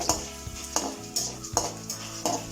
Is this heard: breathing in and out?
no